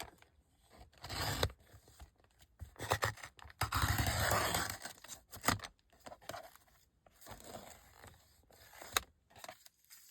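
Scissors cut through paper for a small handmade purse journal in irregular bursts of close scraping and snipping, with short pauses between the cuts and no speech.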